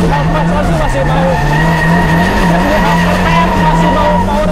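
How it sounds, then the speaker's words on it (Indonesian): A boosted Daihatsu Charmant car engine revs hard and continuously, its droning tone rising and falling in a steady wavering pattern, loud and close throughout. "Suara mobil power band itu benar-benar responsif banget."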